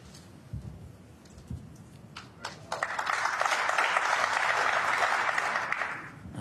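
Crowd at a snooker quarter-final match, the World Masters of Snooker 2024, breaks into sustained applause that swells from scattered claps into a broad, steady ovation lasting several seconds, fairly close and loud.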